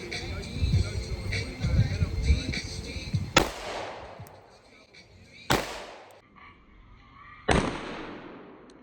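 A micro pistol fires at a shooting range, with three sharp loud reports spaced a couple of seconds apart, each ringing out with a long echoing tail, after a stretch of muffled handling and talk.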